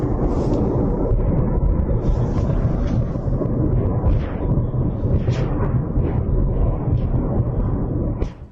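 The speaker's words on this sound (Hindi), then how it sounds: "जोरदार धमाका हुआ है, जोरदार विस्फोट की गूंज दूर तक सुनाई दे रही है" A loud, sustained roar of blast-like rumbling with deep low-end energy that continues steadily, dropping off sharply at the end.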